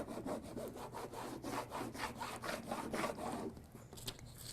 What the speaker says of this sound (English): And then use my scraper tool to try and get that pressed on really well.